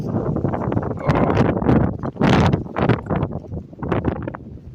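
Outdoors on a gusty day, wind pummels the microphone in loud, irregular surges of low rumbling noise, swelling and easing repeatedly across a few seconds, close and overpowering.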